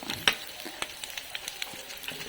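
Pakbet ingredients and meat sautéing and toasting in a pan, a steady quiet sizzle with sharp crackles and pops scattered through it, no talking.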